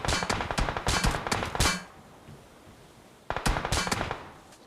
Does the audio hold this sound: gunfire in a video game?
yes